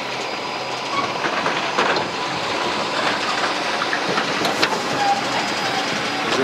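A loaded freight train rolls past on a river bank in summer, with its wheels clattering in a rhythmic clickety-clack and a rumbling body of noise that swells and stays loud throughout.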